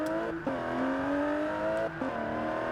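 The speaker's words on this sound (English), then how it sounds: "That's definitely a petrol engine." A Range Rover Velar petrol engine in the video game Forza Horizon 4 revs up with a rising whine, dropping briefly twice as gears shift, then climbing again; steady and fairly quiet, no talk.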